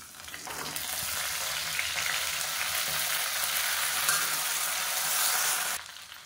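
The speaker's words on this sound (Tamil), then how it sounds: "புதினா கொத்தமல்லி பொடியாக கட் பண்ணதை இந்த எண்ணெயில் சேர்த்து வதக்கிக்கலாம்." Finely chopped mint and coriander dropped into hot oil, a loud, dense continuous sizzle that swells quickly after a quiet start and holds steady before cutting back down, with no talking.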